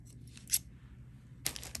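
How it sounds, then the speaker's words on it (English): Small scissors snip through necklace thread, two short sharp clicks a second apart in near silence, close and quiet. "what I'm going to do is cut the thread"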